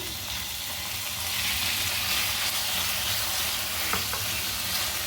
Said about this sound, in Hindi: चिकन को हम यहाँ पर अच्छे से फ्राई करेंगे।